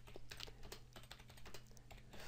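Quiet keystrokes tap on a computer keyboard, a brisk irregular run of light clicks over a low steady hum, with no talking.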